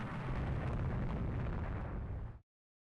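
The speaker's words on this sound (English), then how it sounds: "oh, it's the Malaga firing at the Italia class" Naval gunfire from the ship Malaga in the naval strategy game Rule the Waves 3, a loud sustained roaring blast of cannon fire lasting over two seconds before cutting off abruptly to silence.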